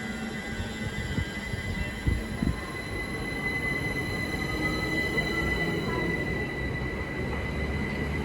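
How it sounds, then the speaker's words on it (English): A Great Western Railway train departs Slough station, a low rolling rumble of wheels and engine building steadily with a faint high whine, heard alone at moderate distance. "Now departing is the 1424 Great Western Railway service from London Paddington to Digcot Parkway."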